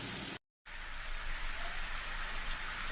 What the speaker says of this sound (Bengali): লবণ, হলুদ দিয়ে এবার ভেজে নিয়ে মিষ্টি কুমড়াগুলো